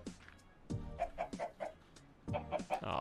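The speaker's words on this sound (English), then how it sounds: "Come here, chickens." Minecraft chickens cluck in a series of short, close, rhythmic clucks, in two bursts separated by a brief pause.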